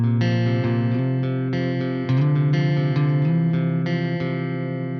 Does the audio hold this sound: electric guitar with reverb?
yes